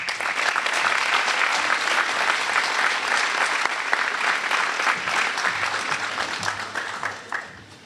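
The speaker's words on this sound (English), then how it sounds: "Let's have another round of applause for her." Sustained applause from a crowd at a VIP awards luncheon, dense and steady for several seconds before thinning and tapering off near the end.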